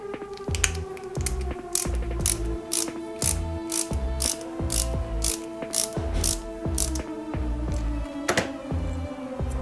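A small screw is driven into the arm parts of a Robocop cyborg model kit, giving a steady run of rapid ratcheting clicks from the screwdriver, close and fairly quiet, with no talk.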